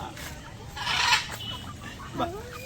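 A chicken clucks a few times, fairly faint, with a short squawk near the end and low background noise.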